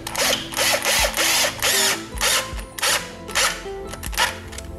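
Power drill driving screws to fix a retractable window fly screen in place, heard as several loud bursts of whirring motor, each a second or so long, separated by short pauses and clunks, close by with no talking.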